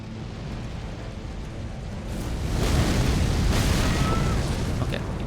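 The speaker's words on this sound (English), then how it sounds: "Okay, you do have an explosion after that." A heavy explosion follows a boss attack in the Elden Ring Shadow of the Erdtree expansion, a broad rumbling burst that swells after two seconds and sustains loudly with crackling debris through the rest.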